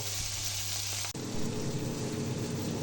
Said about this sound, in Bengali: এখন পেঁয়াজগুলো আমি সুন্দর করে ভেজে নেব